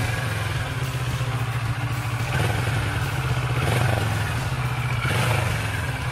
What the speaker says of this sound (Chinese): 然后怠速是有一点迟啊